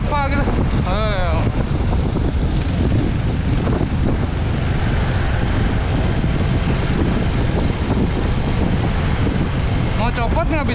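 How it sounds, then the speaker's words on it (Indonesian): Strong wind buffets the microphone while riding a motorbike on the road toward Segening waterfall in Bangli, a loud continuous roar and rumble throughout, with brief voices near the start and end. "Anginnya kenceng banget."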